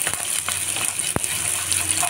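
Coriander seeds and fenugreek seeds frying lightly in a pan for gongura palli pachadi, giving a steady, close hiss and sizzle with one brief sharp tick partway through.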